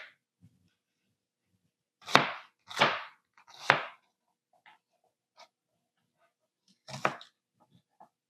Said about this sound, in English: I just cut up some chunks of onion.